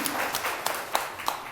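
An audience gives a short round of applause at a lecture, with scattered individual claps standing out over a soft, brief patter that lasts only a moment.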